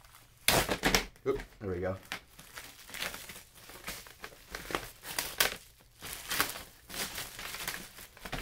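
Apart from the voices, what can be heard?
plastic wrap being crinkled and pulled off folding organizer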